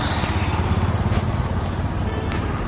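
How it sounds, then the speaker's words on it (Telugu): Busy traffic streams through a jammed junction beside a roadside shop, motorbike engines droning and passing close in a continuous churning rumble, with faint voices mixed in. "నా షాప్ కూడా మొత్తం ట్రాఫిక్ జామ్ అయిపోయింది ఇక్కడ ముందు చొరాస్ ఉంది చూడండి చుట్టూ ఎన్ని బండ్లు వస్తుంటే పోతుంటే"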